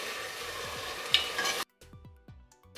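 Rice and green peas are stirred into masala in a pan for matar pulao, giving a close sizzle with repeated scraping strokes that cuts off to quieter, separate scrapes. No voices are heard.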